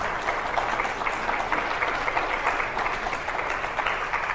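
Audience applause at a fundraiser hypnotism show, steady continuous clapping from a crowd heard at a slight distance, even in level with no talk over it.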